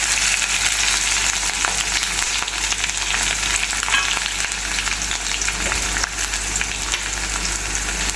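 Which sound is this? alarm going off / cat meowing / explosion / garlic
garlic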